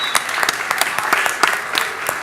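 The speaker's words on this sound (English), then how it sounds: "Give him a big round of applause." An audience at a magic show breaks into applause, a dense burst of clapping from many hands, close and lively, filling the short moment without any talking.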